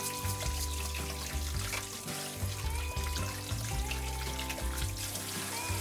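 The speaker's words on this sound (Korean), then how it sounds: "솔로 구석구석 깨끗하게 씻어줍니다." Ginseng roots are scrubbed with a brush under running water, a steady splashing flow with rough scraping and rubbing strokes close by and no voices.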